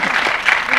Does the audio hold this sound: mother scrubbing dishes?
no